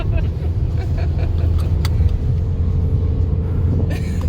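A race car lapping the Nürburgring gives a steady, loud engine rumble heard from inside, continuous and droning with slight variation, and voices talk over it.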